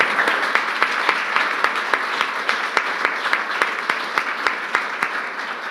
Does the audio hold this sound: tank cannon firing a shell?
no